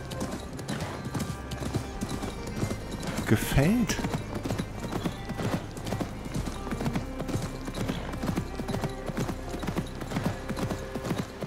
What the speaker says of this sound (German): Und auch da reiten wir mal durch und schauen uns das an auf dem Pferd.